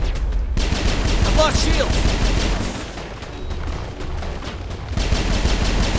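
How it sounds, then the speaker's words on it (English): Machine-gun-style pistol fire in the video game Mass Effect, inside a tunnel on Ilos, crackles in rapid sustained bursts with a pause midway, while a player speaks briefly over it. "I have a machine gun that's masquerading as a pistol"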